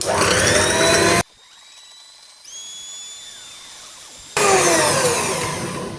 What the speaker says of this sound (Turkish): içerisine 1 su bardağı kadar toz şeker ekleyerek mikserle köpük köpük olana kadar çırpıyoruz